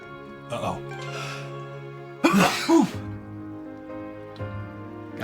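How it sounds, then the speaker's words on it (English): A single sharp sneeze bursts out in the middle of a quiet stretch, preceded by a short intake of breath, with a soft game-style music bed underneath. "Gotta sneeze."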